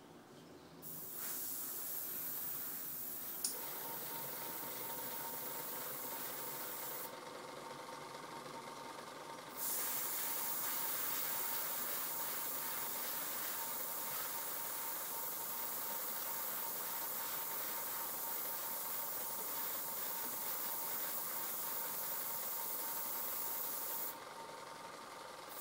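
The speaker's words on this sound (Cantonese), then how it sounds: "開始試噴呢隻嘅銀油啦" An airbrush sprays silver paint onto a Bandai Jegan 1/144 scale model, a steady close hiss of air running continuously through long bursts, with brief pauses where the trigger eases and the pitch of the spray shifts slightly.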